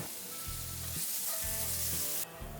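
Finely chopped onion and garlic frying in oil in a pan, a steady close sizzle with soft stirring scrapes repeating every half second or so, no voices.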